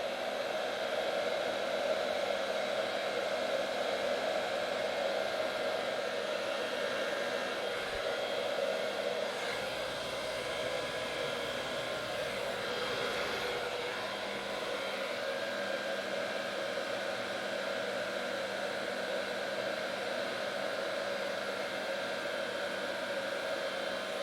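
A blow dryer roars steadily throughout, a constant loud whooshing hum with slight shifts in tone, no voices over it.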